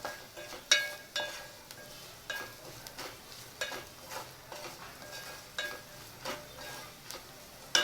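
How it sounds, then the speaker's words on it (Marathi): Turmeric, chili powder and salt sautéed in a pan for tomato bhaji, with a spoon scraping and stirring in repeated strokes over a soft, steady sizzle, close and moderately quiet. "आता आपण ह्याच्यात हळद, तिखट आणि मीठ घेतले ते टाकूया. चांगलं परतून घेऊया."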